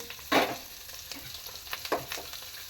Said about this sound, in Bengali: এখানে দেখো মাছের ডিম বসিয়ে দিয়েছি ভাজা